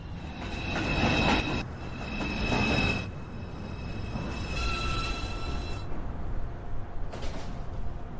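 A Manhattan-bound NYC subway 2 train rolls past, its wheels squealing in long high-pitched bursts over a steady rumble that fades briefly and then returns.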